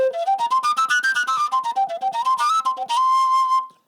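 An overtone flute by Bras, held in the natural position, plays a breathy whistling melody with gliding pitch changes and quick tongued articulations, heard alone and up close before it stops abruptly.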